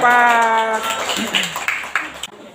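A class claps for a student group after its presentation in an Islamic history lesson. A voice comes first, then a short, dense burst of clapping fills the room for about a second before fading.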